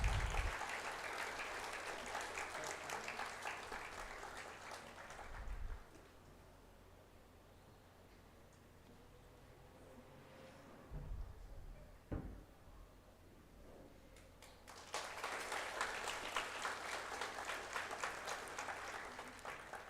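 Audience applause at a school graduation and awards ceremony, a broad hiss of clapping that runs for about five seconds, drops to a quiet hall with a few thumps, then swells again near the end.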